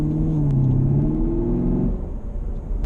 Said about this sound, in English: The exhaust sound, exciting.